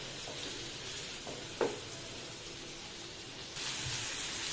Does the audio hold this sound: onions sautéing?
yes